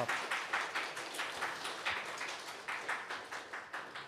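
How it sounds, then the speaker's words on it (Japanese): Conference audience at a Python developer event applauding the end of a talk, a steady wash of many hands clapping in a hall with no talk over it. "参加者の方は大きな拍手をお願いいたします"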